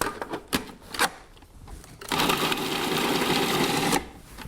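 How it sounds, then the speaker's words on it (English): A food processor grinds minced garlic in a steady loud whir lasting about two seconds, preceded by a few close knocks and clatters as ingredients go in, with no voices. "the food processor is going to do all the work"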